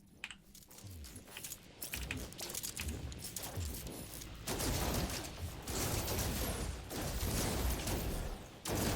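Weapon fire in No Man's Sky, a steady run of rapid sci-fi shots and mechanical clatter that grows louder partway through, continuing alone without talk.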